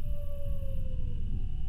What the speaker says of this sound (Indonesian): Apa tuh suara, apa tuh? Suara guguk kah?